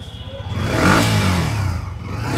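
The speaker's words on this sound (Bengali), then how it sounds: "আমরা বাইকটি অন করব, দেখব ভাইয়ার বাইকের সাউন্ডটা কেমন" A Yamaha R15-M motorcycle engine fires up and revs, swelling to a loud, throaty peak around the middle before settling into a steady, slightly lower rumble close by, with no talk.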